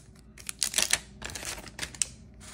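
A pack of 1991-92 Skybox basketball cards being torn open by hand, with close crinkly bursts of tearing foil wrapper and paper rustling in short irregular spurts and no speech.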